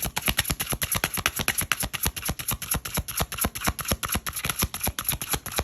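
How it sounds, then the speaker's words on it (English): Tarot cards riffle and slap in a fast, steady rhythm of crisp clicks, close up and fairly quiet, with no voices. "These cards are so, they're so hard to like shuffle sometimes."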